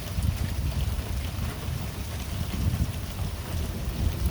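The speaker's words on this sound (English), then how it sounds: "Oh, wind picking up." Strong, steady wind roaring during a tornado storm in Central Texas, with a continuous low rumble and gusty buffeting on the microphone and no talking.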